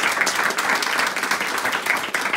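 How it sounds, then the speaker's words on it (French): An audience at a talk at a Sufi centre gives a close, continuous round of applause with dense, overlapping clapping throughout. "je pense qu'il est venu le temps de remercier et d'applaudir Khaled et Raïs."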